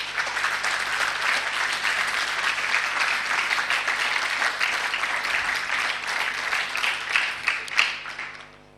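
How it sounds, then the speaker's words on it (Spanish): A church congregation gives a loud, sustained round of applause for Jesus, dense clapping rolling steadily for several seconds before tapering off at the end, with no voices over it. "Denle un fuerte aplauso a Jesús"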